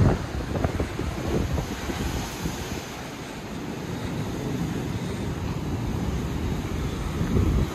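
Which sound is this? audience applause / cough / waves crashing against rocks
waves crashing against rocks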